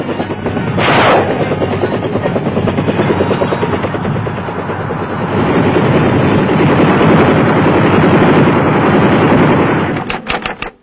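A steady, loud rotor chop of military troop-carrying and gunship helicopters thumps throughout, with a brief sharp burst near the start and crackling at the end.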